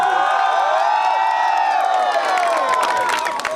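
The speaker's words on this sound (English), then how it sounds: "I think all of us first need to give a round of applause." A crowd at a Goa car-free street festival breaks into loud, sustained cheering with whoops and shouts, mixed with clapping, staying dense and steady throughout with no break.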